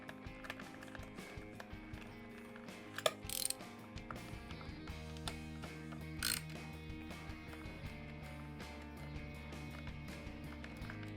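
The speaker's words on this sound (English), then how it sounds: "you're just going to loosen them all up till it's not in the carburetor anymore" Ratchet loosening the three air cleaner screws on a Harley-Davidson CV carburetor, giving steady close mechanical clicking and rattling with a couple of sharper metallic knocks, and no talking.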